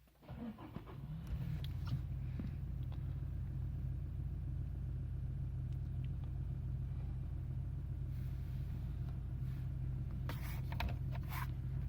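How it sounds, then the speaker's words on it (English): A Toyota Hilux engine cranks and catches after a short quiet moment, then settles into a steady, loud, low idle rumble that runs unbroken to the end, with a few faint light clicks over it. "if I switch the ignition off, I'll start the vehicle"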